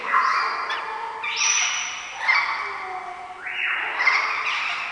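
A pet bird gives a series of loud, close, rising and falling squawking calls, repeated several times in quick succession with no human voice in between.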